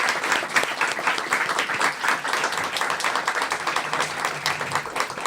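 Audience applause at a TRIO student achievement event at Richland College: a steady round of close, crisp clapping from a modest crowd that continues for about five seconds.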